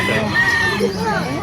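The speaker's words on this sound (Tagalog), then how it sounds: "May mga manok dito sa Bukawi" A rooster crows close by amid a busy background of other fowl and voices at a poultry place in Bocaue, Bulacan, Philippines.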